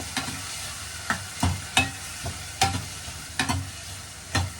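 Ginger and tomatoes fry in a pan with a steady sizzle, broken by repeated scraping strokes of a spoon stirring at an irregular rhythm, close and alone without talk.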